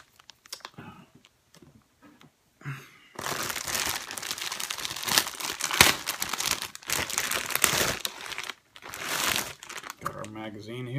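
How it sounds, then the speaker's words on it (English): Thumb tearing into a plastic bag, with bursts of close crinkling and crackling that start after a few quiet seconds and continue in uneven waves, with brief speech near the start and end. "So let's cut this thing open. My thumb will do."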